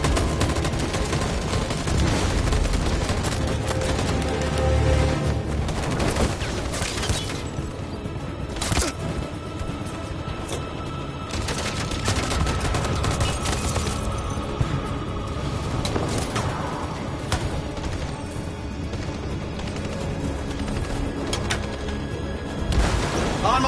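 Sustained gunfire from a video game set in Detroit, with rifle shots and bursts crackling continuously and loudly throughout, mixed with booms and crashes of battle.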